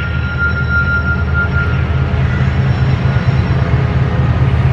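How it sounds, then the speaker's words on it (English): A train passing through Nogales near the Mexico border, a steady low rumble that fills the whole stretch without a break, heard from nearby with no talking. "You can hear that train still."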